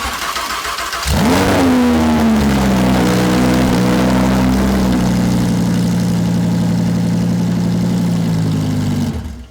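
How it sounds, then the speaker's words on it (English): An Audi R8 engine fires up with no exhaust fitted, a sharp catch and rising roar that settles into a loud, raw, steady idle close by, then cuts off at the end. "we're gonna start the car without the exhaust on, just to hear what it sounds like"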